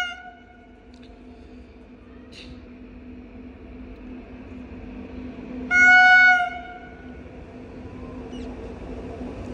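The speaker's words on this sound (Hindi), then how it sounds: "और अभी कोई ट्रेन आ रही है।" The Vikramshila Express rolls slowly through heavy fog, a steady low rumble of the train with a loud, clear horn blast midway, plus a couple of faint distant horn toots earlier.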